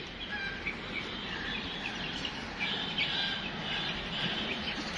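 Large tiger chickens in a yard, a constant dense wash of clucking and chirping calls at moderate distance, with no talking.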